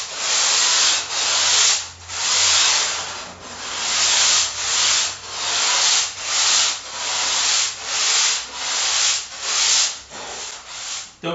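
Hand sanding on a surfboard's edge, smoothing the rail into a bevel: about a dozen rhythmic, hissing back-and-forth strokes, close and steady, with no talk.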